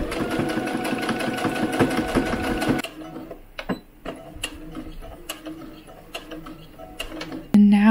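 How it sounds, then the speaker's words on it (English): A sewing machine runs a rapid, steady whirring stitch along a seam on a small doll's maxi dress, then stops, followed by scattered clicks and handling noises and a voice talking. "now we're just going to sew in between these two threads closer to the bottom one"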